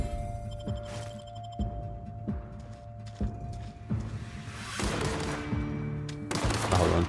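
Gunfire from The Outer Worlds video game, heard as a series of evenly spaced sharp shots with thuds, followed by a denser, louder burst of noisy action toward the end.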